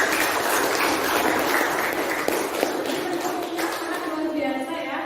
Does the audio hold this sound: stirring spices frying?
no